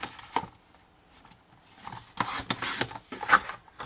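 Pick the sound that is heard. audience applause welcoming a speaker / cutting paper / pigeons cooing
cutting paper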